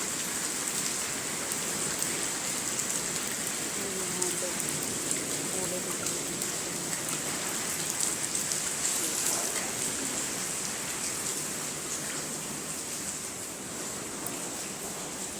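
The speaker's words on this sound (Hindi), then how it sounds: "बारिश हो रही है, बहुत मौसम वैसा है, ओलों के साथ बारिश है" Heavy rain mixed with thick hailstones falls in cold weather over farm fields, a steady, dense hiss of drops on surfaces that holds evenly for the whole stretch without a break.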